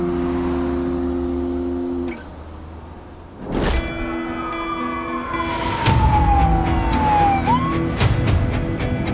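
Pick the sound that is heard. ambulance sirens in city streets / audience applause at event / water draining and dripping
ambulance sirens in city streets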